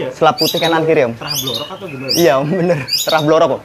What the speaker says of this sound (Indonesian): Ada murai batu lagi ya.